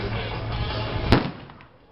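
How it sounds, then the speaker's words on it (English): A simulated bomb blast set off during a live military vehicle demonstration beside a United Nations vehicle on a hazardous road section; one sharp, loud bang rises out of a steady engine drone, then fades away. "the United Nations vehicle has narrowly escaped being blown up by a bomb"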